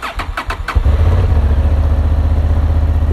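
A Honda Hornet CB 750 motorcycle engine cranks with several quick starter pulses, then catches and settles into a loud, close, steady rumbling idle, with no talk.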